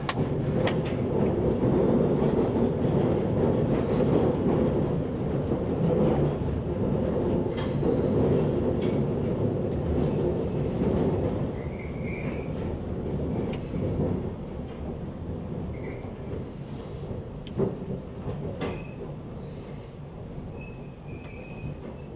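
A London Underground Bakerloo line train slowing on a steep downhill gradient near London Road Depot, with a steady rumbling roar, clanks from the wheels over the rails and faint squeals, easing a little toward the end.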